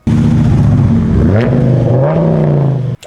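A Dodge Ram SRT-10 pickup's V10 engine revs hard and loud for about three seconds, its pitch climbing and sagging through deep harmonic tones, then cutting off abruptly near the end before a brief restart of sound.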